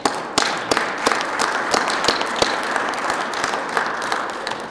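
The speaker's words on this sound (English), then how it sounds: "Give yourselves a round of applause" Audience applause for a group of young sign-industry professionals at a trade association event, a steady wash of many hands clapping with sharp individual claps standing out, fairly close and sustained throughout.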